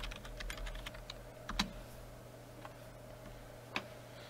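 Keys clatter on a computer keyboard as a username and password are typed, a quick burst of clicks followed by a few sparse taps in a quiet room, fairly soft throughout.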